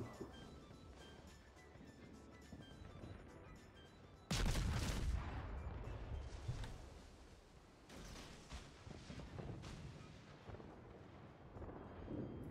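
Heavy naval gun salvos from warships in a World of Warships battle with the Polish destroyer Blyskawica: a loud booming broadside hits suddenly and rolls on, followed by further rumbling shots and sustained battle noise.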